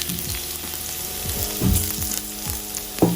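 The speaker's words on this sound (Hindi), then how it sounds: "तो हमारा ऑयल गर्म हो चुका है। अब इसमें क्विकली डालेंगे जिंजर और गार्लिक" Ginger and garlic sizzle and fry in hot oil for a veg Manchurian, a steady crackling hiss with a few louder spatters and stirring knocks, close and alone with no voices.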